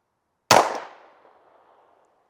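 A single sharp handgun shot from a carry pistol at a range, loud and close, followed by a short fading echo and no talking.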